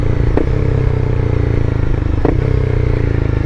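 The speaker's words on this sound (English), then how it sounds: "So I'll do downshift with it." A motorcycle engine runs loud and steady throughout, with two brief clunks at about a half second and past two seconds, consistent with gear changes while downshifting.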